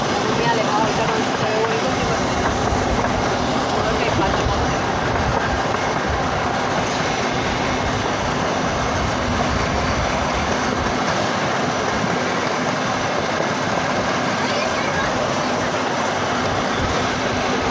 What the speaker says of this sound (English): Actually riding a real freight train.